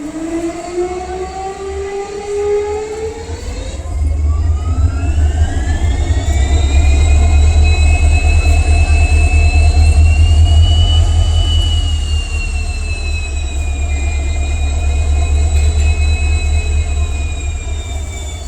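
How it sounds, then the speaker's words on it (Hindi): Aboard the Shirdi Mysuru Express, the generator car's engine spins up with a rising whine and settles into a loud, steady drone with a deep rumble beneath it, close and continuous, with no one talking. "तो अभी यहाँ पे देखिए जनरेटर ऑन हो गया है"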